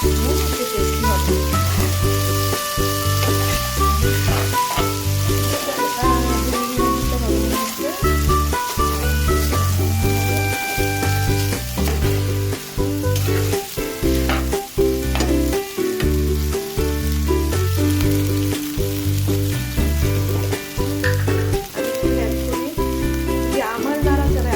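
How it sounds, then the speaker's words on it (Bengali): Noodles and carrots are stirred as they fry in a pan, with a constant sizzle and stirring noises beneath loud background music. "এই ধরনটায় আমি একটু নাড়াচাড়া করতেছি"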